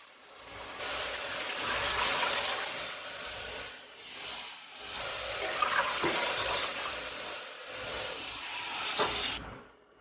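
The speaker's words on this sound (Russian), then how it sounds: "И добавляем воду." Water pours and splashes steadily into a pot of frying meat for Korean rice cake and dumpling soup, for several seconds, the flow swelling and easing, with a few small knocks and clinks.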